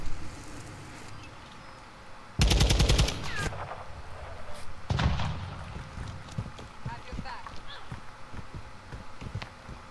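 Gunfire in Call of Duty Modern Warfare II: a loud burst of rapid automatic shots, then a few single sharp reports and scattered distant pops over game background noise.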